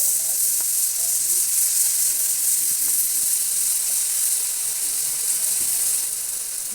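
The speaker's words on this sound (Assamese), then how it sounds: "এতিয়া আমি 5 মিনিটমান এই আলুখিনি ভাজি থাকিম।" Potato pieces and peas fry in hot oil in a pan, giving a steady, soft sizzle and hiss with a few faint stirring clicks.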